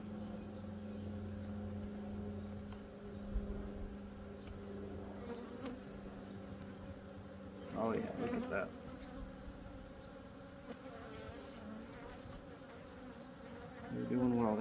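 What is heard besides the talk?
honey bees around backyard hives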